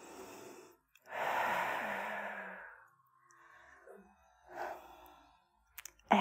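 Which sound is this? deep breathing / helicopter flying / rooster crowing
deep breathing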